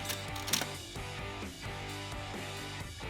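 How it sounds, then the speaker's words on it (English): The elevator mechanism of a 1970 Hot Wheels Tune-Up Tower toy runs with quiet ratcheting, gear clicks and soft creaks in an uneven rhythm, with sharper clacks near the start and no voices. "One step better is having an elevator."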